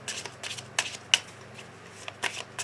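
Oracle cards being shuffled for a love reading: soft papery riffles and sharp slaps in short bursts, close and fairly quiet, with no speech.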